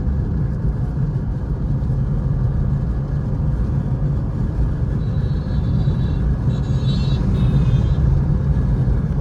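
A car engine rumbles steadily at low revs while driving during a driving lesson, a constant close drone with gentle throttle that stays even throughout, with no voices.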